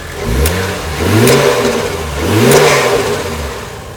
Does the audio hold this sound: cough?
no